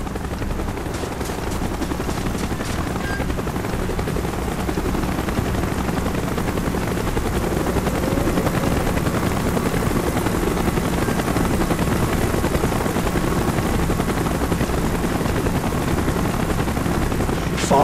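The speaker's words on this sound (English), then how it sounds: "Chopper's inbound. Move it." Helicopter in the Call of Duty: Black Ops video game, a loud continuous rotor thrum and engine drone holding steady throughout, with faint gunfire-like cracks mixed into the background.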